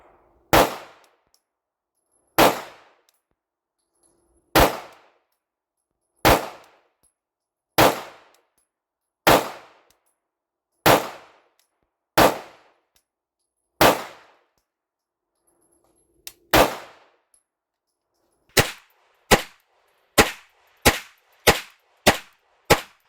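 Canik TTI Combat pistol fired one-handed at steel targets: about fourteen sharp, loud shots, first spaced roughly two seconds apart, then a quicker closing string, each with a short ringing clang of steel, no talk.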